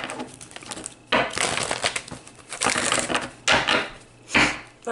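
Cards being shuffled in several quick riffling bursts, crisp papery rustles separated by short quiet gaps, close to the mic.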